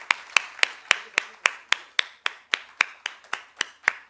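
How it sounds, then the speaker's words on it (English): At a stock exchange IPO listing ceremony, claps come in a slow, even beat of sharp, distinct strikes, about three or four each second. They are close and crisp, like a single pair of hands or a few clapping in unison. "Let the applause continue."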